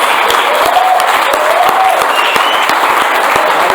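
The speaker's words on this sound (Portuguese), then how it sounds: "Dá uma salva de palmas bem forte, mas bem forte para o Senhor" A church congregation breaks into loud, sustained applause that dense clapping fills throughout, steady and close, with a few voices calling out beneath it.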